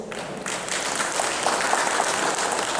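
Audience applause at a public service union's 100th anniversary celebration in Belize, a steady dense wash of clapping that swells after a brief quieter start and holds at an even level throughout.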